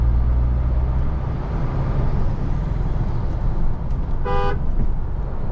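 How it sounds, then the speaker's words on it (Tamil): Mahindra Thar petrol horn giving one short, clear honk over a steady, loud engine and road rumble while driving near a beach. "ஹார்னுமே ரொம்ப சூப்பராக இருக்கு."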